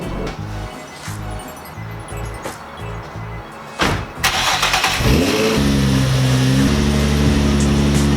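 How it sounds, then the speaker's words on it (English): A Nissan 350Z Z33 cranks with a rhythmic starter chug, fires up and settles into a loud, close idle that rises slightly as the car is backed out. "I'm gonna back this car out"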